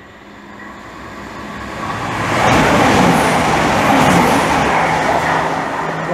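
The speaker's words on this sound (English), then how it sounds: "now approaching, getting ready to pass by, is our first train of the day" A Chiltern Railways service from Banbury to London Marylebone passes through Seer Green, its rumble building from a distant approach into a loud, broad, sustained roar that holds steady as the train goes by.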